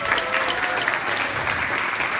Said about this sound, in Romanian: O să vă rog să-l aplaudați pe elevul de clasa a 7-a Transilvania College, Vlad Morar.